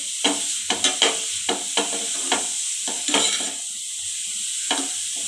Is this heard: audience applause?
no